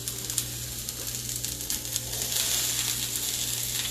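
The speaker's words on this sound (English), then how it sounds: "You always want to hear that sizzle, sizzle, sizzle." A pepper mixture fries in a hot pan, giving a steady hissing sizzle that grows slightly louder partway through, with small scraping and clicking noises over it and no talk.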